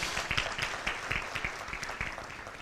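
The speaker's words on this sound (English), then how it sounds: "Round of applause" Applause from the audience at a Uganda–UAE business forum greeting a government minister, a moderate, somewhat sparse patter of individual claps heard from a distance.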